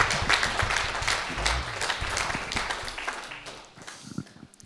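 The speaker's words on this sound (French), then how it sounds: "Est-ce qu'on pourrait les applaudir encore," A church congregation applauds, dense clapping that gradually thins and fades out toward the end.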